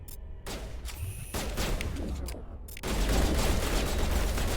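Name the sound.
shotgun gunfire in Mass Effect Legendary Edition, a video game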